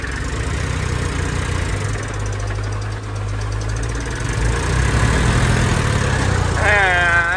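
An Eicher 380 tractor engine running, a steady low knocking diesel chug that continues throughout and grows a little louder toward the end, with people talking over it.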